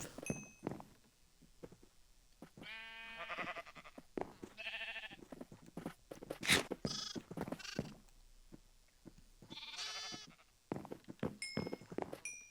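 Several sheep bleat one after another at feeding time in a barn, loud and close, with short pauses between calls and a few clicks and knocks in the background.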